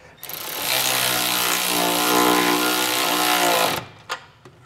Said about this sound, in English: I'm going to tighten it down with a 9/16 socket.